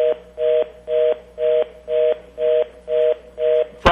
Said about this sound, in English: I can hear the beeping of this phone as well.